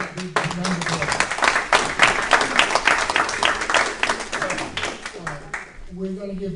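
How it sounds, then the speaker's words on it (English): An audience applauds after a state senate debate, steady clapping for several seconds with a voice speaking briefly at the start and end. "We want to give them a big round of applause."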